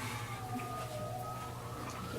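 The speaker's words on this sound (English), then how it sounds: "Sounds like we got the sirens going." Emergency sirens wail outside during a meeting indoors, heading to a structure fire a few blocks away, a faint, distant rising-and-falling tone steady under room noise.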